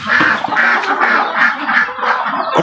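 Pet ducks quack loudly and close by in a rapid, repeated series of nasal calls that overlap one another.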